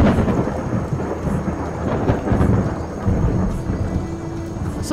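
Thunderstorm in the video game Skyrim: steady heavy rain with rolling thunder rumbling throughout, loud and continuous with no talk.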